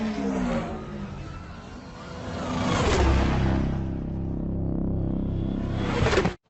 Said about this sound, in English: As you approach a braking zone before a turn, you will hear these deceleration cues.